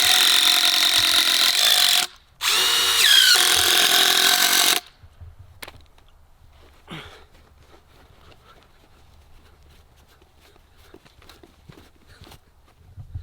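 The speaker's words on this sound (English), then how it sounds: "I'm gonna just wood screw in here" A drill drives wood screws into a clear pergola cover panel in two loud, high whirring bursts split by a brief pause, followed by quiet handling noises.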